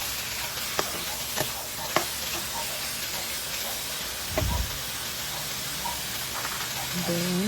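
Marinated pork, soaked in soy sauce and pineapple tidbit juice, frying and being stirred in a pan, with a steady sizzle, a few sharp clinks of the utensil and a brief low thump near the end.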